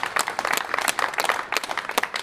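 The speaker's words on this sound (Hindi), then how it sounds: "मैं चाहता हूँ हम सब मिलकर ताली बजा के उन डॉक्टर का स्टाफ का बधाई देने का" A crowd claps steadily for hospital doctors and staff at Index Hospital in Indore as recovered patients head home. The applause is dense and sustained throughout, with no talk over it.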